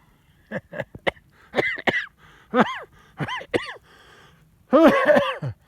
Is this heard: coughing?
yes